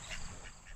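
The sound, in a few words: domestic ducks quacking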